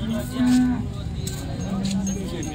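Cattle at a livestock market lowing, with two drawn-out moos standing out over steady crowd murmur and distant talk.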